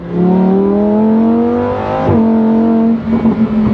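A Lamborghini V10 engine revs up in a rising, smooth howl, briefly dips, then holds a high steady drone before fading into uneven rumbling at the end; loud and close, with no talk.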